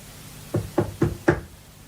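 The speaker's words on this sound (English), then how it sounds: "Always best to knock on his door" Four firm knocks land on a door in an even, quick rhythm, close and distinct against a quiet room with no talking.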